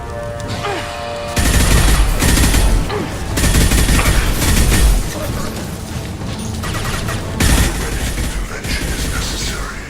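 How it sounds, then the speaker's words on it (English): Heavy gunfire erupts in the video game Mass Effect 2 aboard a Collector ship, dense continuous bursts and booms at high volume, with game voices speaking over the shooting. "Taking heavy fire!"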